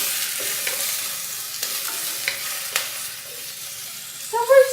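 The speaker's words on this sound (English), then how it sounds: "So we're just going to let those saute for a little bit longer until they can get soft." Onions sauté in oil in a pan for a Moroccan meatball tagine, a steady close sizzle broken by a few soft stirring taps, with a brief murmur of a voice at the very end.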